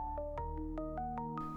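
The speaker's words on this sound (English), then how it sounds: "jerking awake to the ringing of the phone" A telephone rings in the PS1 video game Dark Tales: Ghost Writer, a steady electronic warble pulsing in rapid repeated bursts, moderately loud and continuous.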